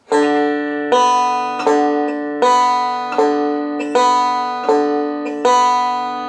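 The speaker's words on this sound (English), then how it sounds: "strike the 4th string with the thumb and the 2nd string with the index finger" Banjo pinches, thumb on the 4th string and index finger on the 2nd, ring out in about eight evenly spaced plucked pairs of notes, each decaying before the next strike.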